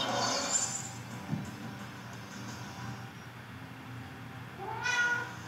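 A kitten gives two clear meows, one at the start and a rising one at the end, close by against a faint steady indoor hum with a soft thump in between.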